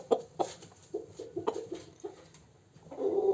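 Young March-hatched chicks, still partly downy, clucking and peeping in a series of short, close calls, with a louder, longer call rising at the end.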